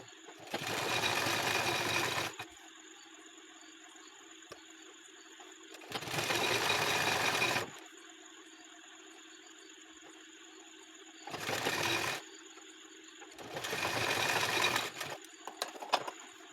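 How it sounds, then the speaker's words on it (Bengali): Sewing machine stitching a double-folded hem on a baby's half pant, running in four separate bursts of steady whirring stitching with short quiet pauses between them; no one speaks. "ডবল ভাঁজ করে সোজা সেলাই চালিয়ে নেব"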